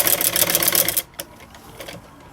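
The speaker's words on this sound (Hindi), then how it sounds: "अब हम यहाँ ऊपर से इसके ऊपर हम सिलाई लगाएंगे" A sewing machine runs a fast, close, rhythmic stitch along a kurti strip for about a second, then stops, leaving faint handling clicks.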